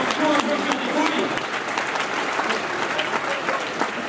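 Lively crowd applause at a manga convention talk in France, a dense continuous wash of clapping with voices and a few shouts mixed in.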